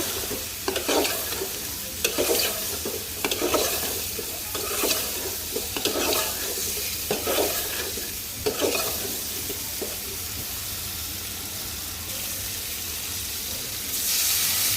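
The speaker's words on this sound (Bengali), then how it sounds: "এখন নেড়ে চেড়ে দিব" Vegetables being stirred in a hot frying pan during home cooking of eggplant and potato, a steady sizzle of frying under repeated scraping and stirring strokes, close and fairly loud, with no talk.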